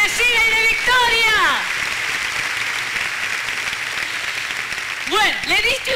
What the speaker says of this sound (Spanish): da un aplauso fuerte al Señor en esta mañana bendecida y de victoria